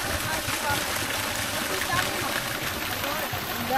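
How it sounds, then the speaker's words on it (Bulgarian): A small waterfall along a Camino de Santiago trail from Baiona to Redondela gives a steady rushing, splashing flow, with people talking over the water. "Пристигнахме при нещо като водопад."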